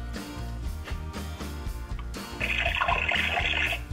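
A VTech Flipsies toy kitchen faucet plays a running water sound effect, a burst of electronic trickling over a short melody, heard alone.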